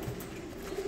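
Low, soft cooing from Polish high-flying pigeons, a steady murmuring hum that carries on without a break, fairly close by.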